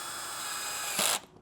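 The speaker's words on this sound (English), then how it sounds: "But I'm a professional, I'm gonna use a power tool" A power drill whirs steadily as it drives screws into skateboard hardware, ending with a brief louder burst before stopping abruptly.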